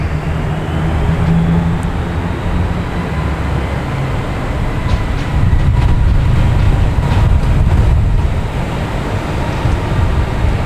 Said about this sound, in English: Let me get some more engine sounds going here.